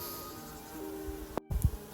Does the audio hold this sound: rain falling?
no